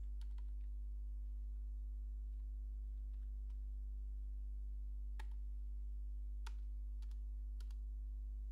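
Computer keyboard typing PHP code: sparse, faint key clicks in irregular bursts over a steady low electrical hum, with no talking.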